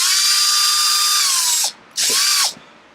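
Power driver loosening two screws on an Arrma Felony RC car's sway bar holder, two loud high-pitched whirring bursts, the first long and the second short, each winding down at the end.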